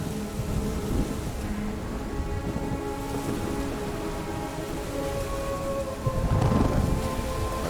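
Rain and a lightning strike in the video game Ori and the Will of the Wisps: steady hissing rainfall runs throughout, a louder rumbling thunder burst swells near the end, and soft tonal game music plays underneath.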